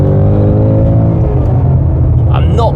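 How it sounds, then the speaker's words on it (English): A Ford Mustang Dark Horse V8 pulls hard in second gear in sport mode, its loud engine note climbing steadily as the car accelerates on an opening road, heard close from inside the car. "There's a nice V8 soundtrack"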